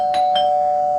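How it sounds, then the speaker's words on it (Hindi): A doorbell sounds two quick chimes over a steady electronic tone, close and clear, with nothing else present. "नवीन के घर की डोरबेल बजी।"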